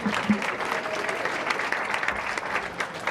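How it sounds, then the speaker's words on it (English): Round of applause from an audience at an event, sustained crowd clapping with a few sharper claps, moderately loud and continuous for about three seconds. "How about a round of applause for Steve Bjork, huh, folks?"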